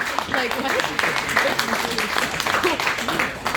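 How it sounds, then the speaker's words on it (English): Applause from a comedy-night crowd at Southport rises under a voice, the clapping mixed with speech that carries across the whole stretch at a moderately loud level. "Round of applause, please, for all those people making this happen."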